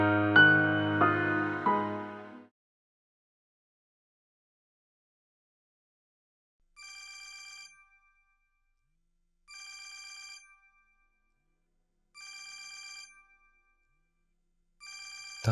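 A phone rings at night in a quiet room, four short electronic ring bursts spaced evenly after a loud opening swell of music, each ring clear and alone against silence.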